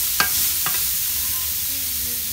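Green beans sizzle in olive oil with pepper in a hot pan, a steady close hiss broken by two quick stirring scrapes near the start, with no talking.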